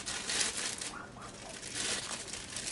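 Close plastic crinkling and rustling, soft and continuous, as plastic bags are handled while unboxing a USB studio microphone.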